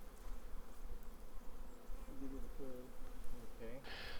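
Honey bees buzz around a nucleus hive during installation, a close droning hum with individual bees swooping past in rising and falling whines.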